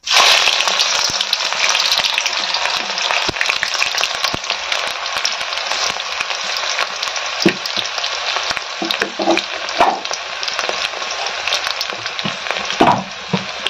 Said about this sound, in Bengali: এখন পেঁয়াজটা ভেজে নেব ভালো করে।